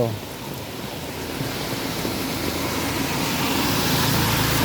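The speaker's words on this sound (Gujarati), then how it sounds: "ફૂલ વરસાદ છે જામનગર શહેરમાં" Heavy rain pours steadily over Jamnagar city, a dense, continuous hiss that swells slightly louder over the few seconds, with a low rumble of traffic beneath it.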